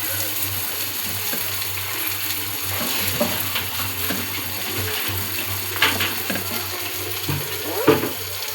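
Chopped tomatoes go into onions browning in a pan for anda bhurji. A steady close sizzle runs throughout, with stirring scrapes and a few sharper clatters near the end.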